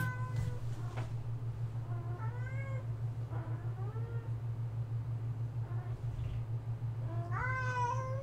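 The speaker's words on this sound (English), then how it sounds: "Listen to this whiny-ass cat." A cat meows repeatedly indoors, a series of whiny, rising cries spread across several seconds over a steady low hum, fairly faint and with no speech.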